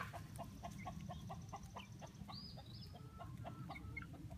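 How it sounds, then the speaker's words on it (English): Chickens, including a Polish hen, cluck in a quick regular series, soft and somewhat distant, over a constant low background hum, with a brief higher call partway through. "Aunt Cynthia says, hi, chickens"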